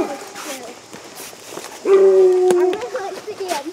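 A hunting dog named Otter gives a few short yips and whines, then a louder sustained bark-howl outdoors in the woods, with people talking nearby.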